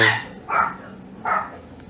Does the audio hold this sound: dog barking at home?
yes